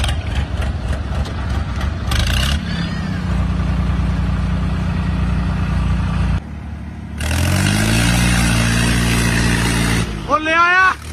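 A tractor engine runs steadily with a deep idling rumble, then revs up with rising pitch after a short gap, while people talk loudly over it.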